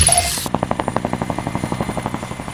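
Mi-24 attack helicopter passing close with loud, rhythmic rotor blade thumping, rapid regular beats over a steady engine whine, after a brief hissy burst at the start.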